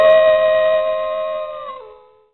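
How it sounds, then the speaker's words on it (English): A wolf howls in one long, clear, sustained tone that slowly fades away, loud and alone. "Wolf."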